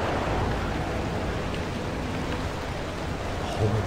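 Loud rain falls without letup in the video game Pacific Drive, a broad constant wash of noise with a faint voice-like murmur surfacing near the end.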